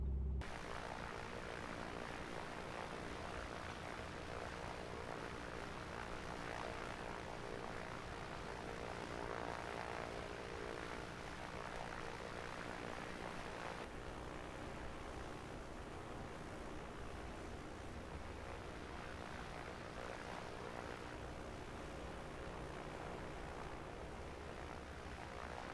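A Piper Comanche propeller aircraft engine in Microsoft Flight Simulator 2024 drones steadily while taxiing, a constant loud hum that runs unbroken from start to end.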